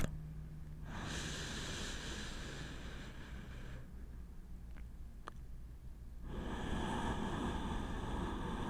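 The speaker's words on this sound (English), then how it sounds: "Let's just do one more big breath." A deep, slow breath drawn in and let out during neck-strengthening exercises, a long breathy rush near the microphone that fades to a quiet pause before a second strong exhale.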